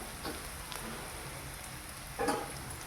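Mustard seeds, cumin, green chili and onion fry in hot oil for aloo dum gravy, making a steady crackling sizzle with a few sharper pops, close and alone.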